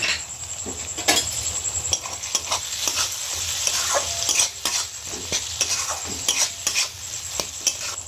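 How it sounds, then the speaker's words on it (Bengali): Spices and chopped tomato frying in a wok (kadai) as ghugni masala cooks, with steady close sizzling and repeated scrapes and clinks of a spatula stirring against the pan, no talk. "মশলাটা যাতে ধরে না যায়, টমেটো কুচিটা দিয়ে দেব"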